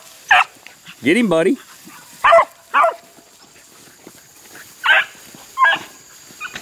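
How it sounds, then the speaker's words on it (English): A red tick hound puppy barks in short bursts outdoors, several separate yelps and bays spaced across the moment, with someone speaking briefly between them. "One of the puppies is in there."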